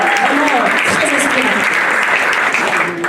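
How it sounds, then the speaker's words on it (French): Loud, sustained applause from a crowd, steady and dense throughout, with a voice faintly audible underneath. "je pense qu'on peut applaudir très très fort"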